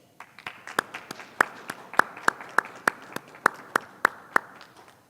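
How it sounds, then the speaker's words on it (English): Applause for a graduating Detroit police class at a virtual graduation ceremony: a steady wash of clapping with sharp individual claps standing out at a fairly even pace, moderately loud, fading toward the end. "Please give our graduating class a round of applause."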